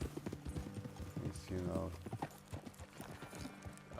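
Horse hooves clip-clop at a steady riding pace in Red Dead Redemption 2, fairly faint, with a brief neigh partway through and someone talking over them.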